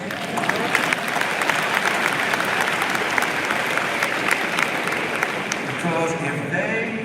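A large graduation crowd applauds in a dense, loud, continuous wash of clapping, with faint voices mixed in, easing slightly toward the end.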